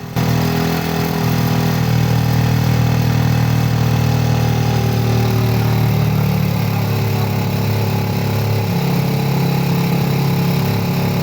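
A small engine idles steadily at about 1200 rpm during carburetor adjustment. The loud, close, continuous hum shifts slightly in pitch as the throttle stop screw is turned, with no talking.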